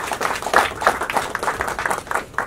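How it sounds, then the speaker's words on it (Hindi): Audience clapping at a Hindi film trailer and music launch event, a lively burst of many hands with uneven peaks, fairly close and steady for a couple of seconds. "जोरदार ताली भूपेंद्र जी के लिए।"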